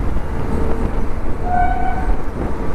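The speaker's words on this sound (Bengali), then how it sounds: "এই ট্রেন যাচ্ছে আমাদের সাথে," A train runs alongside on the Farakka bridge. Its rumble is loud, steady and close throughout, and a brief faint horn tone rises in the middle. Nobody speaks.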